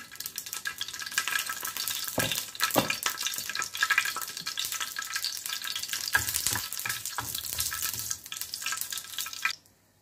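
Dried red chillies sizzle in a tablespoon of hot oil as a tempering for red lentil dal with pumpkin leaves. The frying is loud and continuous, with bursts of stirring, and it cuts off abruptly near the end.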